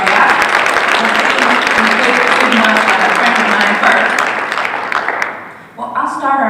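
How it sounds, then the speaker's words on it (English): Applause from a forum audience for the panelists, loud and sustained, then thinning out as a voice starts talking near the end. "we want to thank our panelists with a round of applause"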